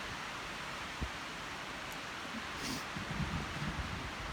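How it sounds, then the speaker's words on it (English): Soft outdoor rustle of wind stirring through garden plants on the Oregon coast, a faint steady hiss with occasional light brushing sounds. "so windy."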